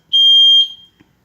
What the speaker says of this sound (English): the smoke alarm today seems to be going off for absolutely no reason